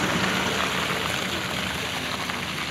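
Steady broadband hiss of rain falling on a muddy road in Yunguillas, Ancash, Peru, continuous and fairly even throughout, with no voices.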